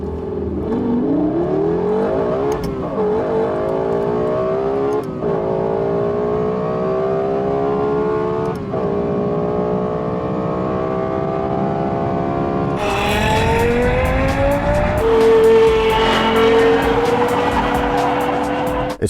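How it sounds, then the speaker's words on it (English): Lexus LFA with a 4.8-litre V10 revving hard under load, its shrill engine note climbing repeatedly through gear changes, then jumping to a higher, screaming pitch, loud and continuous. "A very free revving engine as well."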